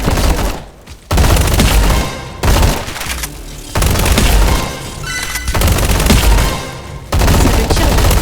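Loud, rapid gunfire from a Roblox combat arena game comes in long, dense bursts separated by short gaps, and the volley resumes repeatedly and keeps up throughout.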